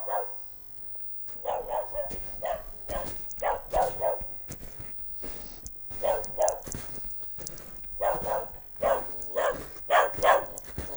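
Dog barking outdoors after a heavy wet snowstorm: a series of sharp, fairly close barks in irregular bursts and pairs, with quiet pauses between.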